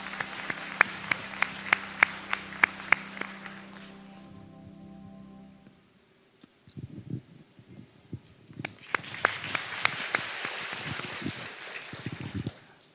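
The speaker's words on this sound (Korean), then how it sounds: "박수로 환영해 주시기를 바랍니다." A church congregation at a Sunday service breaks into applause to welcome testimony speakers, a wash of many hands clapping that swells, dips briefly into near silence, then rises again into another round of clapping.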